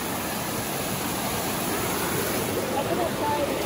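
Rushing water from a Colorado mountain creek with waterfalls fills the air as a steady, even roar, close and continuous with no pauses.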